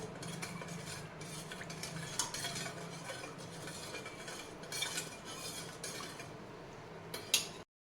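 A spoon clinks and scrapes against a pot while cardamom and nutmeg powder are stirred into a kharvas milk mixture, making soft, repeated close scraping strokes with a few sharper metallic taps and no talking.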